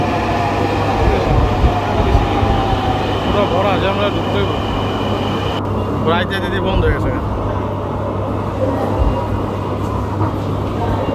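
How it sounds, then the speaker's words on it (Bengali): A Dhaka metro train runs with a steady, loud rail rumble and a constant low hum, joined midway by a brief high squeal as it arrives at the platform. Voices murmur under the noise. "আমাদের ট্রেন এসে পড়েছে।"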